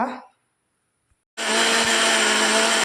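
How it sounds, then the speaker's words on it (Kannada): A mixer grinder grinding spices with turmeric powder starts up after a short quiet stretch and runs loud and steady, a dense whirring roar that lasts to the end. "ಮಿಕ್ಸಿ ಜಾರಿಗೆ ಹಾಕಿ ರುಬ್ಕೊಳ್ಳುವ"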